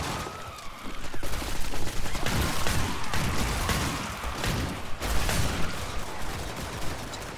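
Dense, continuous gunfire in the zombie shooter Killing Floor: rapid overlapping shots from several weapons, loud and busy throughout, with no voices.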